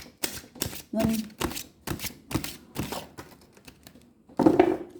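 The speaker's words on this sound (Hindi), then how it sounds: "last shuffle" Tarot cards are shuffled by hand in a run of sharp, close, papery slaps at a fairly steady pace, with a voice briefly heard partway through and a louder rustling burst at the end.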